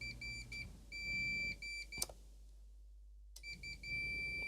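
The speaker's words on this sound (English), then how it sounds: "beep. Beep." Repeated electronic beeps from a device under repair, sounding in short steady bursts with a pause in the middle, over faint background hum.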